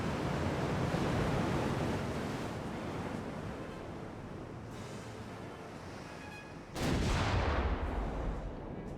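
Naval gunfire from warships in Ultimate Admiral: Dreadnoughts, heard as a broad rumbling roar like distant surf, with a sudden louder blast burst near the end before the roar continues.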